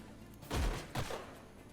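Gunfire from an Age of Wonders: Planetfall battle: two short, heavy bursts about half a second apart, the first louder, with a low thump and a brief rattling tail.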